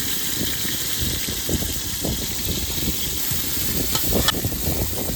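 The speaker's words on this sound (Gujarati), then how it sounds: "હાલો તેલ ગરમ મુકાઈ ગયું છે અને ભાઈ નાખી છે ડુંગળી" Onions sizzle in hot oil while a fish curry is being cooked, giving a steady, close hiss and crackle with soft bubbling bursts throughout.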